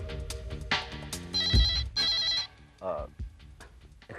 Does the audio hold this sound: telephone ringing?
yes